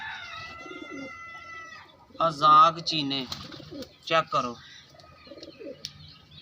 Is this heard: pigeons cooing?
yes